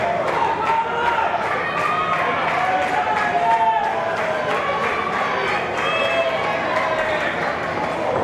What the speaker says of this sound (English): As this capacity crowd in Hialeah trying to rally behind the champ.